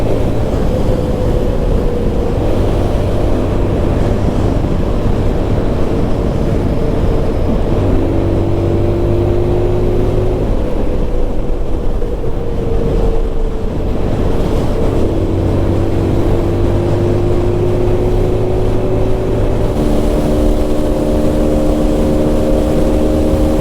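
A TVS Apache RTR 160 motorcycle cruising at high speed, around 127 km/h, with a loud, steady engine drone and heavy wind roar throughout, the pitch shifting slightly between gears with no talking.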